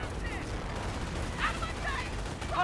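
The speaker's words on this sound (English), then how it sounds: "I think it actually got machine gunned by this MG42." MG42 machine-gun fire in the World War II strategy game Company of Heroes: rapid distant bursts crackle over a busy battle din, with short sharp spikes near the end.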